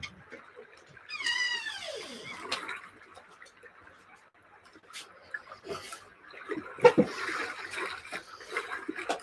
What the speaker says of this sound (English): my cat is in the background